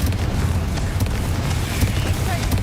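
A blasting Confringo spell from the Hogwarts Legacy video game, heard as dense rumbling booms with brief bursts over a continuous low roar, loud and close throughout.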